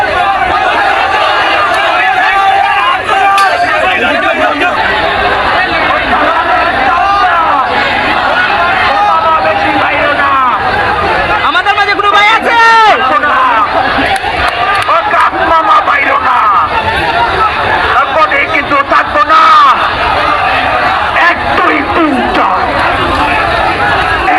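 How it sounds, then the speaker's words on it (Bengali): A large student protest march moves along a road toward a bridge in Sylhet, a dense crowd hubbub of many voices chattering and calling out at steady, loud volume throughout, with occasional shouts rising above the babble. "ছাত্রছাত্রীরা এখন সেলফি ব্রিজের সংযোগ রাস্তায় উঠেছে এবং সেখান থেকেই সেলফি ব্রিজ হয়ে তাদের বিক্ষোভ মিছিল চালিয়ে যাবে"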